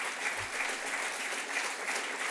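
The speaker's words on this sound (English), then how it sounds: "Cristiano will be thrilled to hear that he got applause just for that." Steady audience applause at an awards ceremony, a dense even wash of many hands clapping that holds for a couple of seconds with no speech over it.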